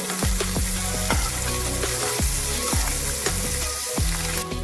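Onion, ginger garlic paste and turmeric frying in a pan for masala oats, with a loud continuous sizzle and regular clanking stirs of a spatula about once every half second, close up and no speech.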